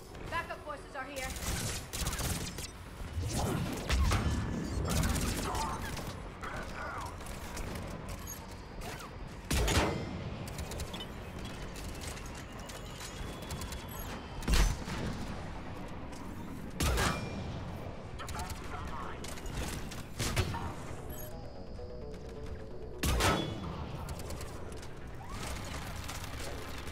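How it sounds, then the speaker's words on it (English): Bursts of gunfire during a firefight in Mass Effect Legendary Edition, with repeated loud shot clusters and sharp impacts over a continuous busy battle bed, with talk mixed in. "I am shooting through the gap."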